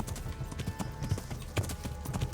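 Horse hooves clip-clop in a steady galloping rhythm in the medieval game Kingdom Come Deliverance, close and moderately loud, with a faint background hum and no talk.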